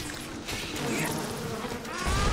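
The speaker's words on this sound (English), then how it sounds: "He's still getting attacked by our bee friends here." Buzzing swarm of bees attacking the player in BioShock Remastered, a dense, steady insect drone close around the listener across the whole moment, with game noise mixed in.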